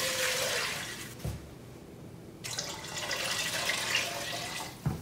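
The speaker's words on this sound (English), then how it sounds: "I'm gonna go ahead and add the water now because we don't want the garlic to burn" Water poured into a hot pan of garlic and olive oil while cooking soup, giving a steady rushing splash that breaks off midway and then resumes, close and fairly loud with no talking.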